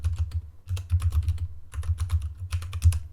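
Rapid typing on a computer keyboard while entering a library database search, with clustered bursts of key clicks, a short pause near the middle, and steady close, clear tapping throughout.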